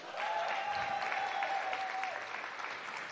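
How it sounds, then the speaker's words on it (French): A crowd at an awards gala claps steadily, a dense burst of applause that fades slightly toward the end. "Tiffany, Bitota, Farah et Christelle, on les applaudit."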